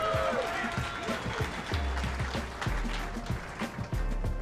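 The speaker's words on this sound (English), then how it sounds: "clap it up for him" Audience at a press conference clapping, a dense patter of applause that carries on steadily throughout, with speech mixed in over it.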